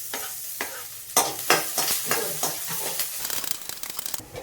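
Sliced onions, green chillies and curry leaves fry in hot oil in a pan for poha, giving a steady close sizzle broken by repeated sharp scrapes of a spoon stirring, with no voices.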